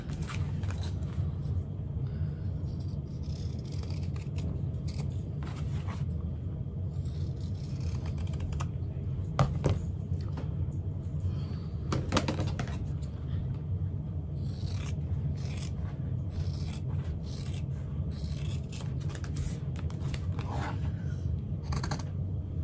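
Scissors cutting through pouch fabric along a marked ballpoint line, a steady soft rasping and rubbing that runs continuously with a few brief sharper snips, close and fairly quiet.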